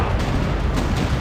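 Cannons fire from a pirate ship in a heavy, continuous roar of booming blasts with a few stronger thumps standing out, loud and dense with no gaps.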